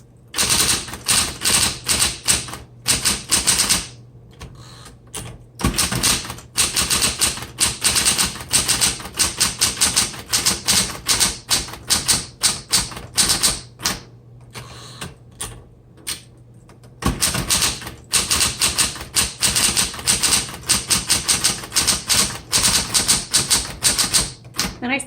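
A 1960s Smith Corona Electra 120 electric typewriter types through a red ribbon, giving fast, dense bursts of crisp keystrokes close up with brief pauses between runs, and no talking.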